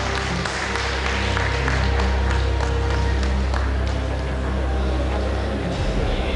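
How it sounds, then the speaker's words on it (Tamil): An audience claps steadily at a ceremony honoring a speaker, a dense continuous applause that stays loud for several seconds before cutting off near the end. "செல்வ கணேசன் சார் அவர்கள் கைத்தட்டலோட."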